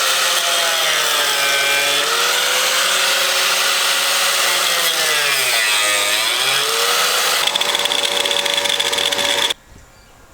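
A power saw cuts through a plastic bumper cover on an NA Miata, a loud, steady buzzing whine whose pitch dips and rises as the blade works, then cuts off abruptly near the end.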